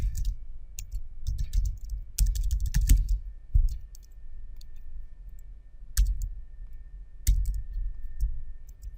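Scattered clicks of typing on a computer keyboard come in short uneven bursts with quiet gaps, close and fairly soft.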